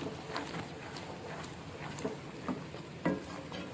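Whole moong dal roasting dry in a pan, giving a steady rustling hiss broken by sharp, close scraping clicks as it is stirred, with no talking.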